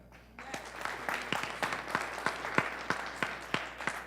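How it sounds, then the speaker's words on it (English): An audience applauds at a public Newark Board of Education meeting, with a short burst of steady clapping that starts quickly and continues at a moderate, somewhat distant level. "We'll give him applause for that."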